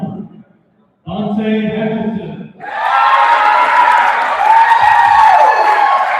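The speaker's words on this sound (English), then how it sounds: "Dante getting a good pop from the crowd" Crowd at a live fighting event on a marae in Auckland cheers as a fighter enters, a loud sustained roar of shouting and applause that swells after an opening stretch of voices and music-like tones.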